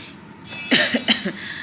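A person nearby, recovering from Covid, coughs several times in a quick, raspy burst, then the sound falls back to quiet.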